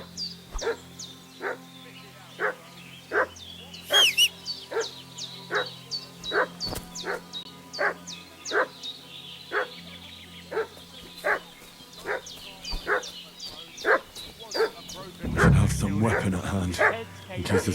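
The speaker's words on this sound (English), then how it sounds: "What's that dog making such a fuss about?" Repeated dog barking in a medieval village setting in the game Kingdom Come: Deliverance II, a steady series of sharp, evenly spaced barks with a few yips, ending with a louder burst of commotion.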